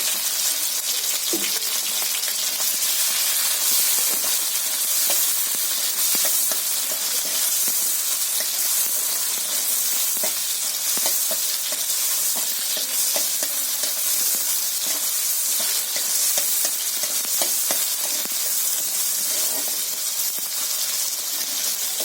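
Tomatoes sizzle and fry with black cumin seeds in a pan, a steady close hiss of hot oil with scattered spits and soft stirring scrapes running throughout, no voices.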